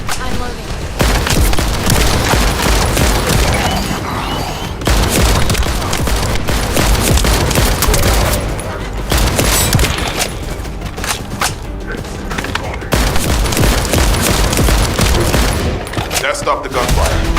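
Loud, sustained bursts of gunfire from The First Descendant, a video game, continue almost without a break with rapid shots and booms, in a dense, layered fight.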